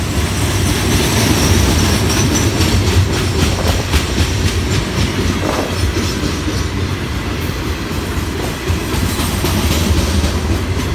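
An FEC freight train rolls past close by at Stuart, a loud, steady roar of wheels and railcars with faint rhythmic clatter throughout.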